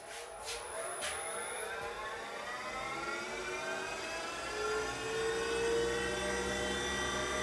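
A Rikon 70-3040 wood lathe running at 4000 RPM, a steady smooth motor whir with rising tonal hum as it spins up, close and continuous with no talking.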